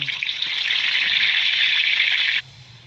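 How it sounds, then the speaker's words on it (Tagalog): Garlic drops into hot cooking oil in a pan and sets off a loud, bright, steady sizzle that holds for about two seconds before it cuts off abruptly, leaving quiet background. "Lagyan ko na ng mantika mga kapapart, saka bawang"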